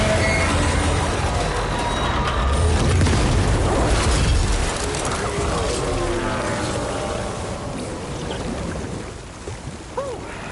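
Grenade launcher blasts in the Death Stranding 2 video game, heavy low booming explosions with rumbling debris over several seconds, loud and close, fading into quieter ambience.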